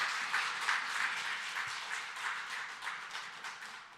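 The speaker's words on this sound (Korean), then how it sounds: "박수부터 한번." A church congregation applauds, a soft, muffled, steady patter of clapping heard from a distance and slowly tapering off.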